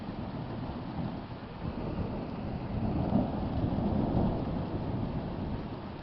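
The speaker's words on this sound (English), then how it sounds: "It's raining." Heavy rain pours steadily outside during a thunderstorm, with a low, rolling rumble of loud thunder swelling midway through, continuous and close, no voices.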